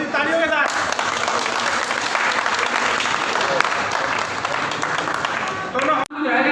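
A crowd applauds at an Independence Day gathering, a thick continuous burst of clapping that runs for several seconds between stretches of someone speaking, cutting off abruptly near the end.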